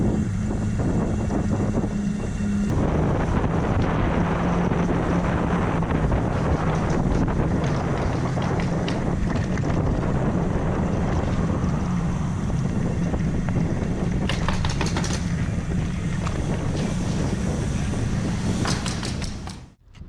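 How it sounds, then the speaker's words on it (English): A lobster boat's engine drones steadily as the boat comes in from the ocean off Prince Edward Island, its low hum carried under heavy wind buffeting the microphone throughout. "Got a lobster boat just coming in here from the ocean, I do believe."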